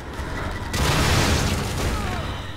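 Bomb explosion in The Evil Within: a sudden loud blast erupts after a quieter moment and rolls into a dense, rumbling roar that slowly fades away.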